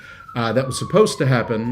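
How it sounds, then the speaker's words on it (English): A siren wails steadily in the background beneath someone speaking close to the microphone, its tone holding level throughout the short stretch. "I apologize for the siren in the background."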